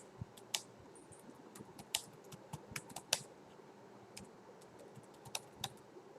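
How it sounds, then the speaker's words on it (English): Fingers tap out quick, uneven bursts of keystrokes on a computer keyboard, the clicks soft and close against a quiet background hiss. "I'm just typing some junk"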